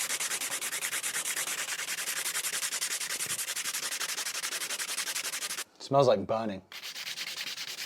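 Sandpaper worked by hand over a part of a neglected Baby Taylor BT2 guitar, a steady rasping scrape in continuous close strokes, pausing briefly while a person speaks before the sanding resumes.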